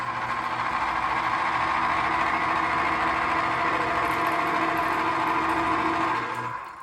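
Electric juicer pressing oranges, a loud steady motor whir with a rough grinding edge that runs continuously for several seconds and then winds down at the end, with no talking.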